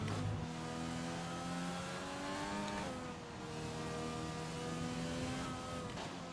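Formula 1 car racing around Suzuka in the F1 2020 video game, its high-pitched engine wailing steadily and rising through the gears with brief shift dips, loud and continuous and free of talk.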